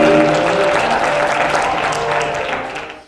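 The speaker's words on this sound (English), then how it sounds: "Let's give her a big round of applause." Audience applause at a realtor business event in Phoenix, steady clapping for about three seconds that tapers off at the end.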